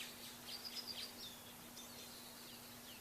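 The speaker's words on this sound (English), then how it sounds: "I hear the birds." Birds chirp and twitter faintly in mountain countryside, a few short calls in the first second then sparse distant tweets over a steady low hiss.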